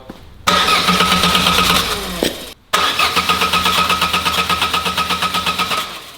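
An Opel Corsa's starter cranks the engine in repeated whirring bursts, loud and near, with a brief pause between attempts and a steady pulsing rhythm as it struggles to fire; no one speaks.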